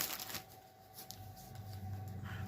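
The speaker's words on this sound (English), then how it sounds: "Sorry for all the crinkling." Crinkling of plastic packaging while cross-stitch floss and a stitching project are handled, a soft, close rustle with brief crisp crackles, faint and alone.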